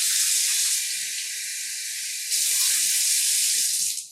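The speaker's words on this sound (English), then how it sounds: "I'm going to go fill up with water over at my sink" Tap water runs steadily into a planter at a household sink, a loud continuous hiss and rush that swells briefly partway through before cutting off at the end.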